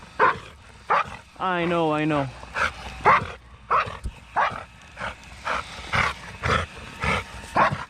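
A dog barks again and again in short, loud bursts with one drawn-out whimpering yelp, nearby, while a person speaks briefly between the barks.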